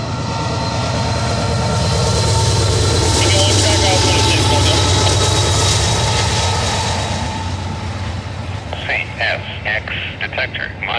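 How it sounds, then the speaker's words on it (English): A short northbound CSX intermodal freight train with piggyback trailers rolls past a trackside spot in Madison, its loud steady rumble and wheel noise building, then fading into clanking cars, with a voice speaking near the end. "now we got a train coming. Got a northbound here."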